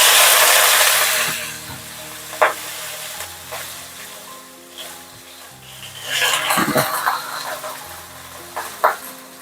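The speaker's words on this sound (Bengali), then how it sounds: "এবারে আমি তেলে দিয়ে দেব চিংড়ি মাছগুলো।" Shrimp dropped into hot oil after fried lentil dumplings, a loud hissing sizzle at first that settles into a softer frying crackle, with occasional sharp pops and clatters of a utensil against the pan.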